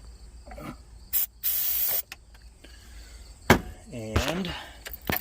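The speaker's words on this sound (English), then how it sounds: "let's shoot a little ether in the carb" Ether sprayed into an engine carburetor on a rat rod, heard as a short loud hiss of about a second amid clicks, clunks and brief mechanical noises.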